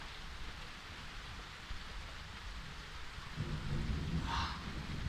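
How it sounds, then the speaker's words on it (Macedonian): Heavy rain hisses steadily, and a low rumble of thunder rolls in during the second half, building under the downpour, all fairly soft and distant. "Зарадата ме фати дождот"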